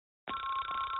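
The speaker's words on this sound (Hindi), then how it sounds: "ये जरूर शिजुका का फोन होगा।" A cartoon telephone in a Doraemon episode rings steadily, its loud electronic trill starting abruptly after a short silence and continuing without a break.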